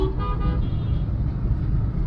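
Car horn honk in busy city traffic while driving in first gear, a brief tonal toot near the start, over a steady low rumble of engines and road noise.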